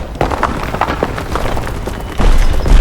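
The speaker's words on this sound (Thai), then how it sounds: "ระเบิด" Explosions in War Thunder tank combat involving a Panther D in a forest, heavy booming thumps and rumbling blasts, with a louder, closer boom near the end.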